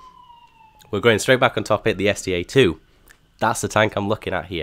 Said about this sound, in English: we'll ignore the sirens that are going on outside